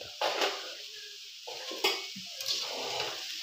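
A spoon stirs sugar into carrot halwa in a pan, with a few scraping strokes against the metal over a soft continuous sizzle, close up and with no talking.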